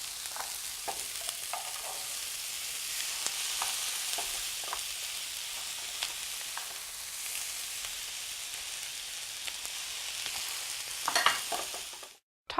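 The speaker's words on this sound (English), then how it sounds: "the rest of the veggies we're going to saute until browned" Vegetables and onions sauté in a pan for a brown rice stir fry, a steady close sizzle broken by scattered clicks and scrapes of stirring, then cutting off abruptly at the end.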